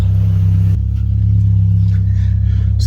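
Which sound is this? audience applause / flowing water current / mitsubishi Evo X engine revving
mitsubishi Evo X engine revving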